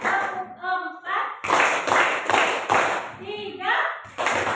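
A class in Indonesia plays a clapping game: a voice calls out counts while the group answers with bursts of sharp unison claps, sometimes one, sometimes several in quick rhythm, alternating with her speech.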